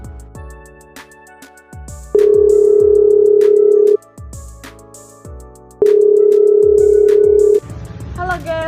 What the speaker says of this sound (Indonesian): Telepon Age ah.